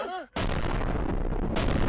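A firecracker bursts outdoors at a wedding-challenge event, a sudden loud blast after a short voice, followed by a sustained roar that swells again near the end.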